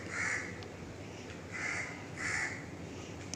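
A flock of crows caws repeatedly in the morning, harsh calls coming in several bursts, moderately near, over a steady low outdoor hum with no talking.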